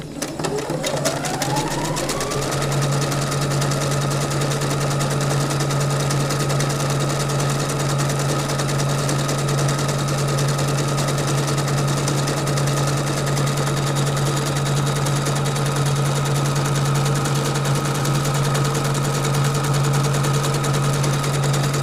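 A Fadimex sewing machine spins up over about two seconds and then stitches fabric at a steady fast pace. Its loud, close motor whir and rapid needle clatter carry on evenly without any talking.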